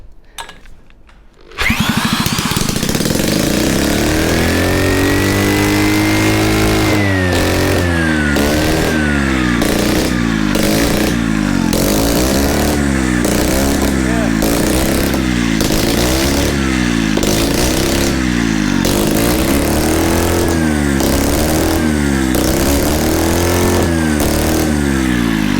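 A Mazda RX7 rotary engine cranks and fires up for the first time, catching after a brief starter whir and then running loud and close with a rough, pulsing idle and repeated throttle blips, no talking over it.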